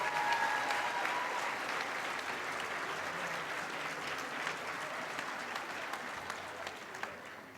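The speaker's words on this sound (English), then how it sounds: "give them a round of applause" Sustained audience applause at a health professions white coat ceremony welcoming imaging sciences students, steady dense clapping filling the hall and tapering slightly toward the end.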